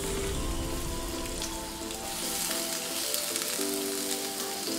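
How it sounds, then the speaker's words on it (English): Vegetables stir-frying in well-heated oil for Jamaican salt mackerel with ackee give off a faint, steady sizzle and crackle throughout, over a soft background hum. "We're gonna stir fry these veggies"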